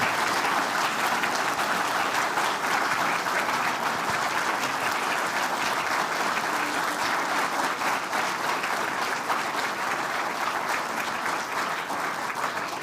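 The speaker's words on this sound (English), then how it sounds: "Keep that applause going, ladies and gentlemen," Continuous, loud, even applause from a large audience at a state Australian of the Year awards ceremony, holding steady throughout without a break.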